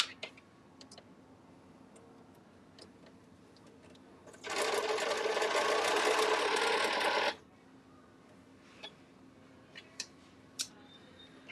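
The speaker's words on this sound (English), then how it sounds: "there is a bobbin in my machine, and I can see the bobbin thread, but it doesn't appear to be making any stitches" A Featherweight sewing machine with a bobbin runs in one steady, whirring burst of about three seconds, framed by quiet with scattered light clicks and taps before and after.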